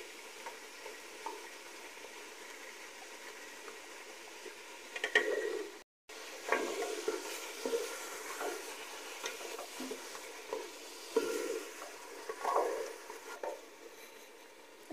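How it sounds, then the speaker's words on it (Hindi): Chicken pieces fry in a pan for a chicken korma, giving a steady close sizzle with crackling bursts and a brief stir-like break midway. "अभी हम चिकन को अच्छे से फ्राई करेंगे।"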